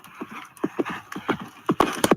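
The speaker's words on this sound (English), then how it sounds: "I don't even remember why I had that horse passing by." A horse passes by, its hooves clip-clopping in a steady walking rhythm of distinct, fairly close knocks, with a brief whinny-like accent near the end.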